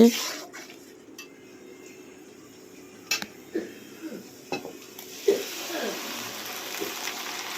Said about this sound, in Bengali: মশলাগুলোকে এখন কষিয়ে নেই